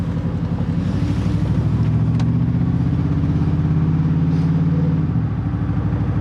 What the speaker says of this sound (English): it does seem like it's down on power a little bit and misfiring